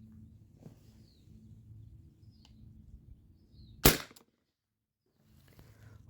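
A T4E TR68 HPA round ball marker fires a single sharp, loud shot that cracks out of a quiet outdoor background with faint bird chirps, followed by a brief silence.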